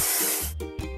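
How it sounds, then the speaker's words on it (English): Spray painting walls in a house-building video game: a bright hissing spray burst, a short pause, then two more quick bursts, close and crisp. "Let's paint over the discolorations."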